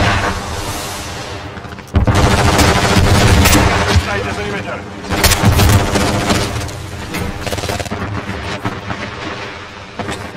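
Gunfire in Call of Duty MW3 on Xbox, with loud bursts of automatic fire and heavy booms in rapid clusters, dense and close, with game voices calling out over it.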